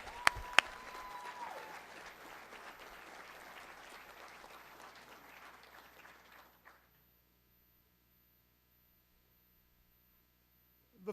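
Audience applause at a college honors awards ceremony, a steady round of clapping from a seated crowd lasting about six seconds before cutting off to near silence.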